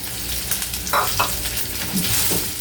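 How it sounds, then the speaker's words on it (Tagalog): Diced ham sizzling and frying in a hot pan while being stirred, a steady close crackle with a few scraping stir sounds, no talking. "Haluin lang natin siya mga kayami hanggang sa mag-brown yung ating ham"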